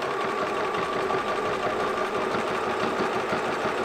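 A Bernina 1030 sewing machine stitching a double diamond stretch stitch runs in a steady, loud mechanical whir with a fast, even needle rhythm, close and continuous throughout with no talking.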